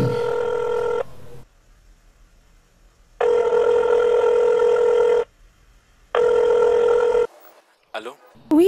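A telephone ring tone sounds in three long, loud electronic bursts separated by silence, followed by brief faint noises.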